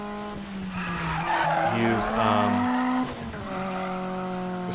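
A car slides and drifts in a racing video game, its engine revving through tonal rises and falls with tire squeal while someone talks over it.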